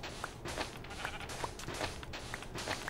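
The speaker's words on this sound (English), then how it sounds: "I know there's sheep everywhere" Repeated bleats from sheep in the Minecraft video game sound over a steady background hiss, several short calls spaced across a few seconds.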